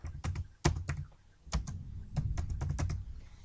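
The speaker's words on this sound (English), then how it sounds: "now I'm going to type" Typing on a computer keyboard comes through as close, uneven clusters of light key clicks and taps, fairly quiet, with no talking.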